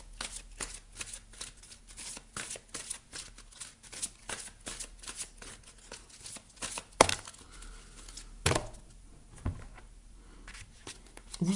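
Oracle cards being shuffled and drawn from a deck, with quick papery riffling and flicking close up, a couple of sharper snaps near the end, and no talk.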